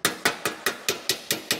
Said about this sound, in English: Planishing hammer and a dolly.